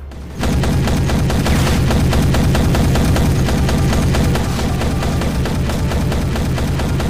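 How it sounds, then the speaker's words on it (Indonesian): Heavy automatic gunfire from a big gun in a war action film erupts after a brief lull and hammers on loudly and continuously in rapid bursts, close and dense. "Untung saja Caesar segera muncul dan menembaki mereka dengan senapan besarnya."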